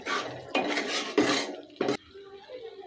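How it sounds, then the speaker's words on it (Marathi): A spatula scrapes and stirs masala spices sautéing in a pan for a sprouted horse gram curry, with about four loud scraping bursts followed by a quieter sizzle. "ते आपण दोन ते तीन मिनिट चांगले परतून घेऊया"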